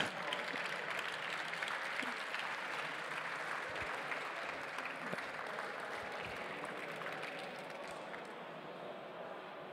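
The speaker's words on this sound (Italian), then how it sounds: "Un applauso per Lutec." A large audience applauds team Lutec at a hackathon award ceremony on a main stage, a dense, sustained wash of clapping that gradually softens over ten seconds.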